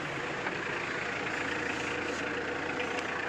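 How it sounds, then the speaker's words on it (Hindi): Tata Sierra engine idling while it warms up, a steady low rumble with an even, unbroken drone for a few seconds, close by with no talking. "इंजन को थोड़ा हीटअप होने देते हैं।"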